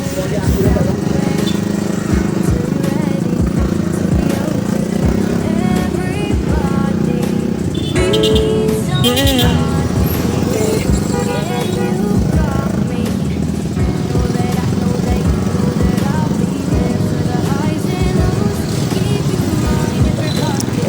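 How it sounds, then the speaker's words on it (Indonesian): Slow holiday traffic of motorcycles and cars crawling through a city centre on the second day of Eid, a dense continuous rumble of engines with occasional horn blasts, loud and close, with a voice talking over it. "Motor dan mobil berjalan merayap. Suara klakson mulai terdengar"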